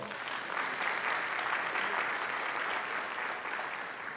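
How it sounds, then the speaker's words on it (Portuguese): A church congregation applauds in a sustained, even roar of clapping that holds steady throughout, moderately distant and without speech. "Aplauda ao Senhor."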